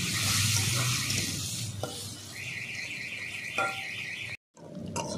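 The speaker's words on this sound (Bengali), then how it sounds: "আলুটাকে ভালো করে নুন আর হলুদ দিয়ে লাল করে নিচ্ছি বন্ধুরা একসঙ্গে।" Potato pieces fry in a pan with salt and turmeric while being browned for a Bengali cabbage and prawn curry: a steady close sizzle with stirring scrapes, a thin high whine midway, and a brief cut near the end.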